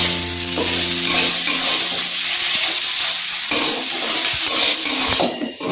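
Spiced potato filling with turmeric, chilli powder and sugar being stirred and fried in a pan, a loud close sizzle with scraping strokes and a brief dip near the end.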